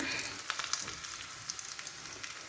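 Curry leaves and grated coconut fry in hot oil while being stirred in a pan, a steady close sizzle with light scraping clicks scattered through it, no voices.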